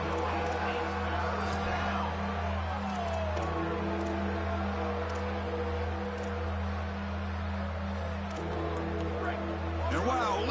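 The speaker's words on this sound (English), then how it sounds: "Listen to this crowd noise." A large stadium crowd at a USF versus Boise State college football game, a steady roar that swells around the play, with an announcer talking over it throughout.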